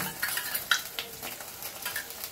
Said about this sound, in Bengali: আদা রসুন বাটাটা দিয়ে ভালো করে একটু কষাবো।